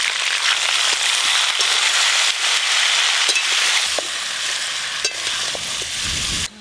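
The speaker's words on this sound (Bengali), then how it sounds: "খিচুড়ির জন্য এখানে 5 রকম সবজি আছে, একসঙ্গে ভেজে নেব" Five kinds of vegetables fry together in a pan for khichuri, a loud, dense, close hiss of sizzling oil with scattered crackles and light stirring scrapes, running steadily before cutting off at the end.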